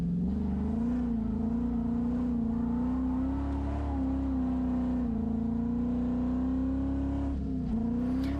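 A car with a 408 cubic inch LS2 V8 drives on a test run, its engine a loud, continuous drone near at hand, pitch holding fairly steady with small rises and a brief dip near the end.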